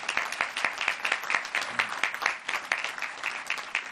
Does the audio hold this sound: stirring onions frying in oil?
no